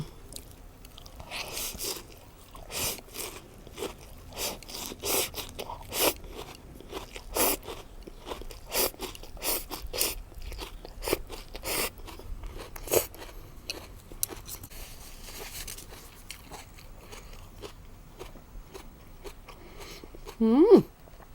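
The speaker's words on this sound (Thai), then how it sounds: "อันนี้หัวชายเท้านะคะ เรากินได้ค่ะ" Crisp, repeated crunching bites of daikon radish eaten with seafood dipping sauce, a steady close-up chewing rhythm that runs nearly throughout, with a voice talking at times.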